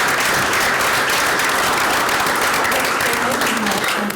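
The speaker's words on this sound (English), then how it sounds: "applaud them." Audience applause fills a school board of education meeting in Joplin, steady dense clapping from a room full of people that holds at a constant level throughout with faint voices mixed underneath.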